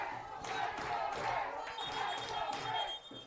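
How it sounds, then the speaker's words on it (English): Spectators at a Men's Lacrosse semi-final chant "Let's Go Brits" in rhythmic bursts late in the game, the crowd rising and falling over several repetitions. "A Let's Go Brits chant erupting from the crowd."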